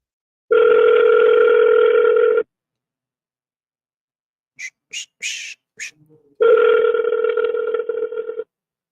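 A phone call to a New York contact rings out toward voicemail: two long, loud electronic ring tones separated by a gap with a few brief chirps, no talking.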